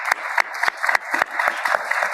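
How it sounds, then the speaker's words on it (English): Audience applause at a law and public policy symposium, steady dense clapping from a crowd with a few sharper individual claps standing out, sustained throughout at moderate loudness. "So another round of applause for them."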